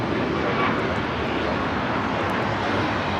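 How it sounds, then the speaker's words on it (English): A Korean Air Boeing 747-8 Intercontinental roars on takeoff at Los Angeles airport, a loud, steady broadband jet rumble that holds level throughout with no voices. "This is Korean Air Flight 18 taking off to Seoul on the 747-8 Intercontinental."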